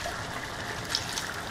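Tomato can being rinsed with a small splash of water in a home kitchen, a soft trickling and sloshing of liquid, faint and close, with a few brief metallic clinks.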